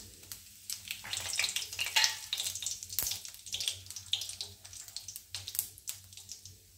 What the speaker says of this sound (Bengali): আমি কড়াইতে জিরে ফোড়ন দিচ্ছি 1 চামচি, আর দিচ্ছি 2টো তেজপাতা।